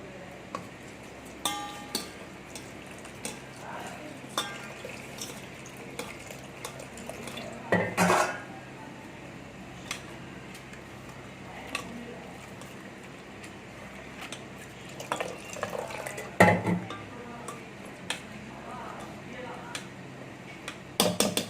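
Multigrain rava dosa batter with salt being stirred in a bowl, with spoon scrapes, a few sharp clinks against the rim and two louder clatters, under a faint steady hum.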